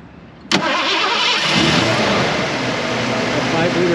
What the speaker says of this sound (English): The 5-liter comes to life just like it should.